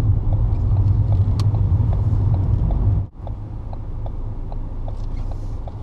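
Manual car moving off at a busy roundabout, its engine revving with a steady low rumble that dips briefly as the clutch engages, then settles into a quieter drone.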